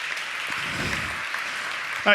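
Workshop audience claps after a camera rehearsal take, an even spread of light applause across the room that fades as a voice begins at the end.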